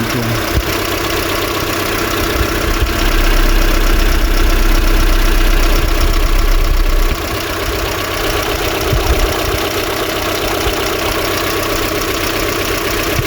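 Renault Twingo 2 with the D4F petrol engine idling roughly with a misfire, a steady close engine drone with uneven knocking pulses and strong vibration throughout, louder rumble in the first half, no talking.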